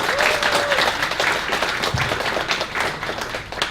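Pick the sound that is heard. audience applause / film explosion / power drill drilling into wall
audience applause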